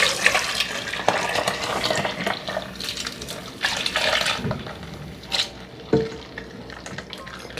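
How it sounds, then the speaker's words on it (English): Pineapple, ginger, lemon and orange juice poured through a strainer to catch the pulp, giving a steady close liquid trickle and splash with a few sharper drips and clinks, no voices. "Now you want to go ahead and strain this again to get the excess pulps out"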